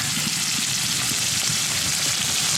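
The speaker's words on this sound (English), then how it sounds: "That steak is cooking, it's sizzling, it smells so good." Steady, dense sizzling of steak searing in a hot pan at a snowy campsite, loud and continuous with no talking.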